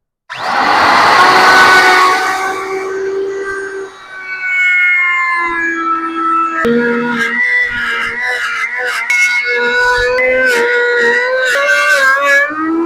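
Router cutting through plywood on a circle jig, a loud high whining spin-up followed by a shifting, screeching motor tone as the bit bites and travels through the wood, close and continuous.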